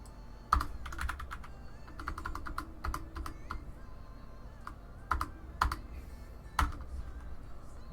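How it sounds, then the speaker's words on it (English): A computer keyboard clatters in quick, uneven bursts of close key presses, with a few louder thumps on single keys and quiet pauses between runs. "I'm typing it out."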